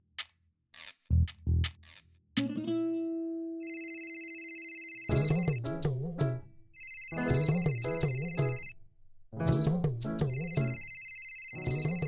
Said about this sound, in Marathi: अगं माझा फोन वाजतोय